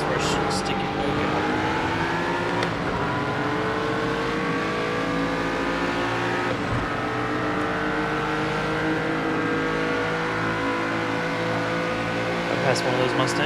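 Race cars, including Mustangs, roar through a Project Cars 2 race, engines droning and revving loudly and steadily throughout, with several cars passing close and someone speaking over the engine noise.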